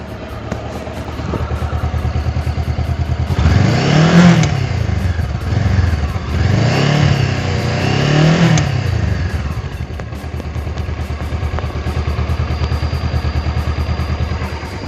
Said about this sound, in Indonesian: Itu suara mesinnya. 500 cc 2 silinder.